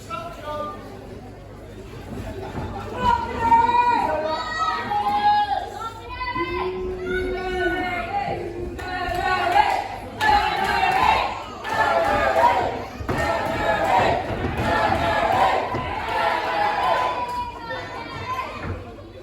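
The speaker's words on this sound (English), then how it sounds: "The crowd were making it extremely clear who they wanted to win, and it wasn't John McCann" A wrestling crowd at a junior heavyweight championship bout cheers, chants and shouts in loud rhythmic waves, with whoops and thuds rising and falling close by throughout.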